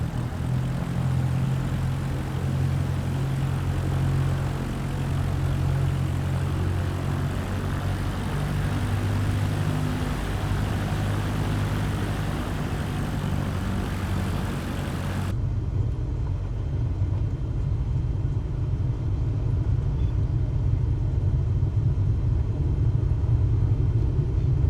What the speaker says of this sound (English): Now slowly taxi onto the runway and align the plane with the center line.